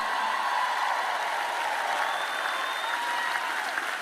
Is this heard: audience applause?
yes